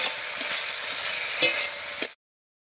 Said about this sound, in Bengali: মশলাটা দিয়ে খুব ভালো করে মিশিয়ে নিয়েছি কচুর সঙ্গে